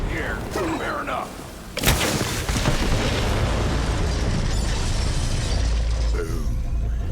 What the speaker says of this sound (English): The explosion echoed through the forest